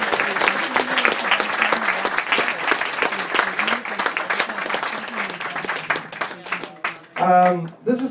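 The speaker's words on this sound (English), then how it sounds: "Big round of applause for Lolly." An audience applauding at a live hypnosis comedy show, a sustained wash of clapping from a crowd that trails off near the end as a voice cuts in.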